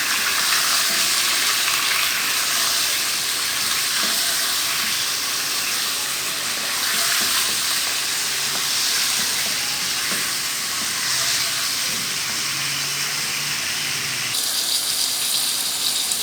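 Chicken pieces frying for Pakistani karahi, a dense, continuous loud sizzle and hiss that stays steady throughout, close up and without any talking.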